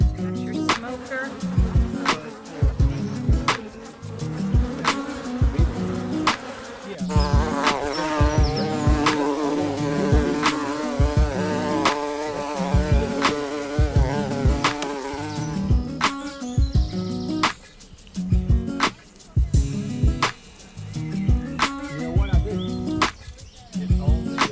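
A captured bee swarm on a farm homestead hums as a dense, loud buzz of many insects. Individual bees whine past close by, and the sound briefly thins out before the full buzz returns.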